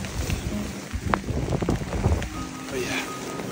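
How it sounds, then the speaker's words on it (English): Rain patters steadily on a coastal shoreline during a sea fishing session on England's south coast, mixed with gusty wind buffeting the microphone and a few sharper close knocks. "with these conditions and this rain"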